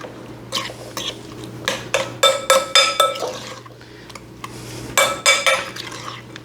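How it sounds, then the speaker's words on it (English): Spoon scrapes and clinks against a bowl as Jell-O fruit salad is stirred, bursts of clattering strokes and glassy chinks in two clusters over a low steady hum, close by with no talk. "what you basically want to do is mix it up until everything you're putting in there turns the color of whatever gelatin you're using"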